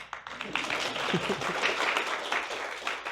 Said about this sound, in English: You may clap now.